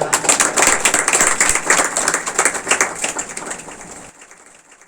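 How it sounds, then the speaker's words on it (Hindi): A church congregation applauds loudly at a Hindi healing and breakthrough prayer service, dense steady clapping from many hands filling the room for about four seconds before cutting off abruptly. "जोर से तालियां"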